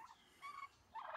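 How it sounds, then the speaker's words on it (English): Homestead breeding turkeys gobble a few times in quick succession in the morning, faint and somewhat distant. "So these are my turkeys that I am going to keep."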